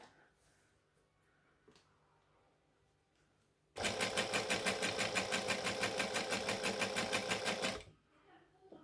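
A misbehaving sewing machine stitches a Christmas tree skirt in a steady, loud run of rapid mechanical thumps lasting about four seconds, preceded and followed by quiet handling noises in a calm room.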